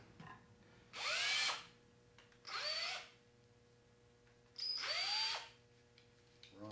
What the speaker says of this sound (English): I like to drill a little hole through the outer layer of whatever I'm going to screw down so that the screws don't spit out the wood